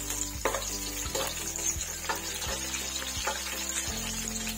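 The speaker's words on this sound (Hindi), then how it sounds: "पहले मैं प्याज को ब्राउन कर लूंगी।" An onion browns in about half a cup of oil inside a pressure cooker, giving a continuous sizzle with a low droning hum underneath and faint irregular clinks and scrapes.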